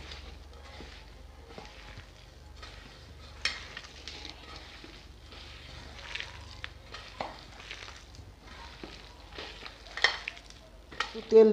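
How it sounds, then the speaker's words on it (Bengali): Prawn and coriander fritter batter with cumin, turmeric, chili powder, gram flour, salt and a little water is mixed by hand in a bowl, giving quiet squelching and patting with occasional clinks, fairly soft and close. "এবারে একটু জল দেব, ভালো করে এটাকে মেখে নেব।"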